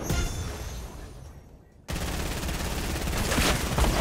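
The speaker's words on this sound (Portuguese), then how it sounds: "Tô atirando do outro lado." Fortnite gunfire, with continuous rapid shooting that breaks off into a quiet gap and then resumes loud and dense, steady automatic fire filling the last half.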